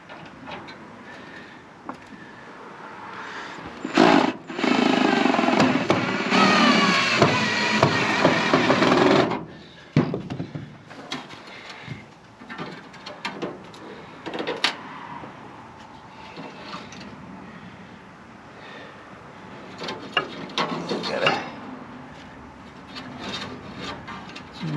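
Screws are driven down through a winch mount into a trailer bed, a loud grinding burst from a power driver for several seconds followed by scraping, knocks and handling noises at close range, with no talk.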